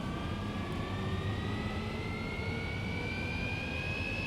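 A car engine in the BeamNG.drive driving game, damaging itself under throttle, roars loudly and continuously, with a thin whine that climbs steadily in pitch as the revs build. No one speaks.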